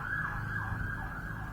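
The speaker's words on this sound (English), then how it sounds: "sorry about the siren in the background" An emergency vehicle siren wails steadily in the background, its pitch sweeping up and down in slow repeating cycles over a low traffic rumble, with no talking.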